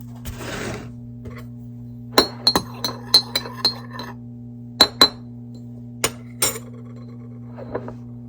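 Dishes and glasses clink and clatter during washing up after breakfast in a vacation rental, a series of sharp, bright knocks in irregular bursts, close by over a steady low hum, with no talk.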